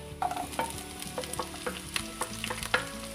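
Onion sautéing in a pan, with scraping stirs and clinks of a utensil over a soft sizzle, in irregular bursts with no talking.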